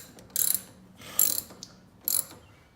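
Screws being tightened on a replacement car side mirror, a hand tool giving three short ratcheting bursts separated by pauses, close and fairly quiet, with no talking.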